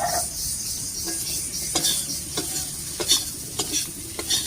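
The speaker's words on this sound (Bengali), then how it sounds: "এবার আলুটাকে একটু ভাজা ভাজা মতো করে নেব।" Potatoes fry in a pan with turmeric and salt, a steady sizzle running throughout while a spatula scrapes and stirs in irregular strokes, close and clear.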